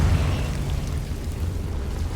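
A Confringo blasting spell goes off in Hogwarts Legacy, a loud, sustained rumbling explosion with a heavy low-end roar that holds steady across the whole stretch without fading.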